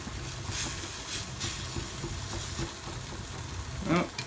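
Tomato pasta sauce sizzles and crackles steadily in a pan while being stirred, with a few sharper scraping clicks near the end.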